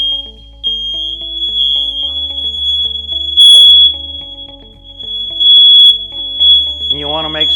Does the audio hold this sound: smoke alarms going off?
yes